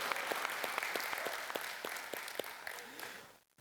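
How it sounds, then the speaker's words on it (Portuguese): A church congregation applauding, a steady dense patter of many hands with sharper individual claps, fading out toward the end. "Você pode aplaudir Ele?"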